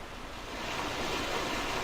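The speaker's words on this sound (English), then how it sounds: "This waterfall, man," A waterfall in the Farming Simulator 19 video game gives a steady, dense rush of falling water, even and continuous, like close surf, with no voices over it.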